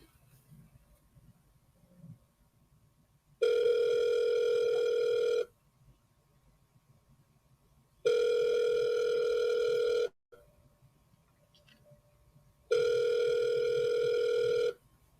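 Three long, steady telephone ringback tones, each about two seconds, separated by pauses while an outgoing call connects, clear and alone over faint room hiss.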